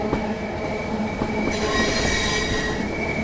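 Simulated Swiss locomotive hauling British passenger coaches in Train Sim World 5, a loud steady rumble of rolling wagons with sustained wheel squeal and faint clickety-clack, no talking.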